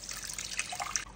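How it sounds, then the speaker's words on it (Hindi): Water poured into a pot holding half a cup of quinoa, a brief soft trickling splash close by, with no talk. "एक कप पानी डालूंगी, ठीक है।"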